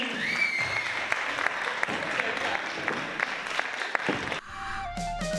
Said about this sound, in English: One more round of applause for Mr. Entertainment